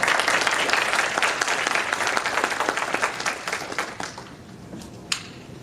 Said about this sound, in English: please give a round of applause for our panelists tonight